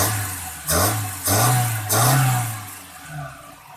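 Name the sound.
Suzuki Karimun car engine revving via throttle lever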